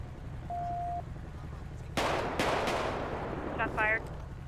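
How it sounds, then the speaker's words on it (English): Several sharp gunshots crack in a role-play video game hostage standoff, a single shot followed by a couple more about half a second apart, with a brief tone beforehand and faint radio-like chatter afterward. "I'm not sure where those shots are being fired from"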